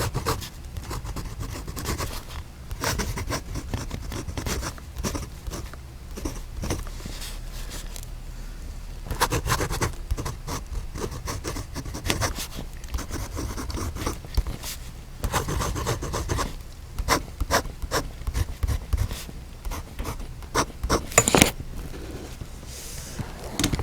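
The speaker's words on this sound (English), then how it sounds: "let's see how this nib lays down that Birmingham Dusk ink" A fountain pen nib lays down Birmingham Dusk ink in a steady dry scratching, with short strokes and brief pauses running throughout, faint and close.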